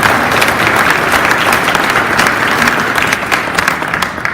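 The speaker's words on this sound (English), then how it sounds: "And we can clap for Mayor Scarpitti." Steady, dense applause from an audience at a live-streamed event at the GM Canadian Technical Centre in Markham, many hands clapping evenly and close throughout without pause.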